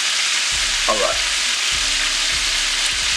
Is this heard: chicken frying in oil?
yes